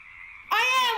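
A frog croak in a Lego animation, a single loud ribbed croak that swells after a faint tonal lead-in and holds close and clear.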